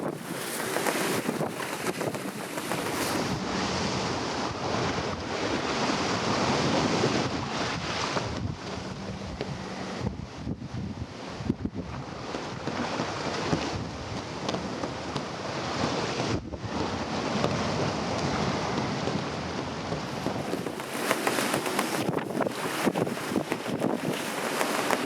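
Rough sea in a Force 6 aboard a small sailing boat off the Eddystone Lighthouse, with continuous heavy wind buffeting the microphone and waves rushing and surging past the hull. It is loud and steady with no talk.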